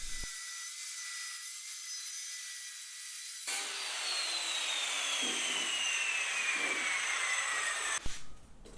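A saw cuts through plywood for a box jump build, a continuous rasping drone that starts abruptly partway through and holds steady and fairly loud before cutting off near the end.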